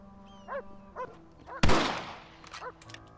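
A single sharp, loud rifle shot rings out in the Western video game Red Dead Redemption, surrounded by short, high dog yelps and whimpers before and after.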